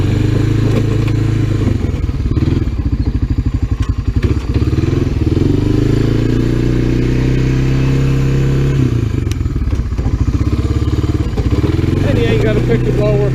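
A Honda Fourtrax 300 ATV pushing snow with a plow blade, its engine chugging loud and close with a pulsing idle-to-rev rhythm, occasional clunks and scrapes of the blade, and a voice talking over it.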